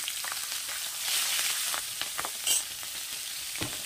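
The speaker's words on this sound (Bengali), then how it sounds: "ওই তেলেই কালো জিরে সম্বার দিলাম, কাঁচা লঙ্কা সম্বার দিলাম" Nigella seeds and green chili tempering in hot oil left from frying fish, a bright continuous sizzle with crackling pops and stirring scrapes, one louder spatter midway.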